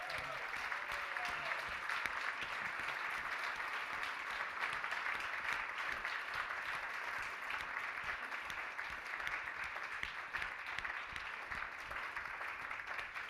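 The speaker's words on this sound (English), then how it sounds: "a real big round of applause for Team GMF." Sustained, dense applause from a conference audience at a closing plenary session, steady and loud throughout with no breaks or voices over it.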